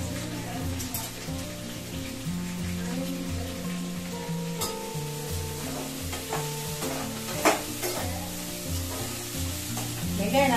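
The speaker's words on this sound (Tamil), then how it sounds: "வெங்காயம் நல்லா வதங்கட்டும்." Onions sauté in a hot pan for a prawn gravy, a continuous soft sizzle with occasional spoon taps, heard under steady background music.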